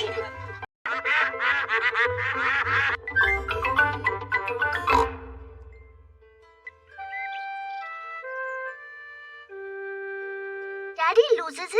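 Cartoon ducks in a Peppa Pig episode quack in a quick flurry of nasal calls, followed by a gentle chiming melody of rising tones and a brief closing burst of sound.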